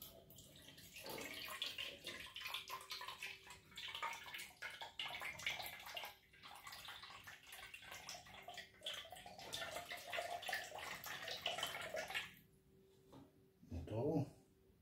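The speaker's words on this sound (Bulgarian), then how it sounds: "Сега налехме чиста вода и пускаме за последно да промиеме." Clean water rushes steadily through a water dispenser being rinsed, a continuous splashing flow that cuts off near the end before a brief final gush, with a person talking over it.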